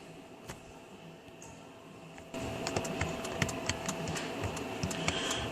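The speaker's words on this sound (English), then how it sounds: "You can hear the relay in the BCM clicking" Relay inside the body control module of a 2013 Dodge Journey with 79,137 miles, clicking as the master door lock switch is pressed while the locks fail to work. Sharp, dry ticks come close and repeated over a steady background hum.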